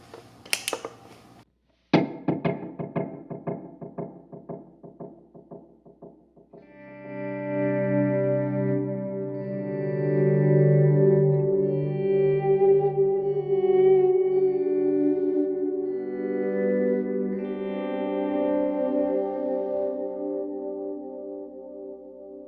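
Electric guitar through a Strymon Iridium amp pedal picks a few plucked notes, then rich sustained chords swell and ring out through heavy effects, with a long, shimmering tail.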